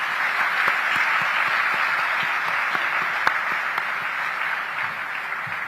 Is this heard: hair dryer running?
no